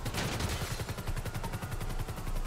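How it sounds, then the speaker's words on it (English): Crazy Taxi 2 video game gunfire: a steady rapid machine-gun rattle of evenly spaced shots runs continuously at moderate volume, with no talking. "I'm just getting shot from all sides."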